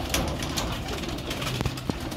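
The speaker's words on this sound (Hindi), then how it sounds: "देखें बने हुए कबूतर हैं" Soft, low coos from Faqir Gul pigeons repeat against a steady background hum, with a few faint bird calls and brief clicks.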